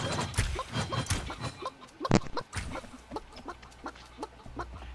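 Chicken clucking in the video game Realm Royale, a rapid series of close, sharp clucks and squawks with one louder burst midway, over faint game background noise.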